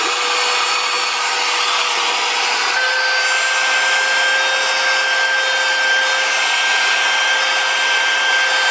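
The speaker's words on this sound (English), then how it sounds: "time to put the Hoover to the test. Let's see if it picks up these crumbs." A cheap handheld car vacuum cleaner from TEMU runs with a constant loud, close whine and whoosh as it picks up crumbs, its pitch shifting slightly partway through, with no talk.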